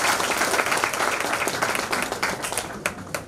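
A crowd at an election headquarters in Lucknow claps to welcome a senior vice president, with dense, steady applause and a few sharper claps near the end.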